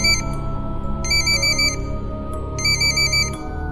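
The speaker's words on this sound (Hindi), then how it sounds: "तभी उस शांति को भंग करते हुए पुष्कर का फोन बजा।" A mobile phone rings in a quiet room, its bright electronic ringtone repeating in two distinct pulsed bursts over a low droning music bed, loud and close.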